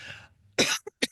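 A single close cough bursts out after a soft breath, followed by two short throaty catches as it trails off.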